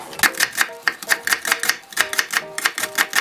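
A knife chopping green onion (daepa) on a cutting board, quick, close, crisp cuts in an irregular rhythm of roughly a dozen strokes, heard on their own with no talking.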